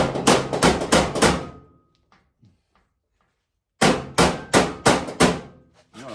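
Hammer tapping on a metal floor panel being prepared for welding: two bursts of rapid, loud metallic blows, about five in each, close by, separated by a quiet pause.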